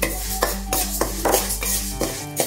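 Moong dal dry-roasting in a pan, stirred with a utensil that gives regular close metallic scrapes and clinks against the pan over a low steady hum, no voices.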